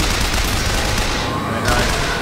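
Dense machine gun fire in Bioshock Infinite rattles loud and close in a continuous burst, with a brief lull before it resumes.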